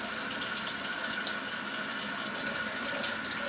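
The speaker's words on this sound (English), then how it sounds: "So I give them a quick rinse." Tap water runs steadily over vegetables being rinsed before juicing, a close, even hiss and splash lasting the whole stretch with no voices.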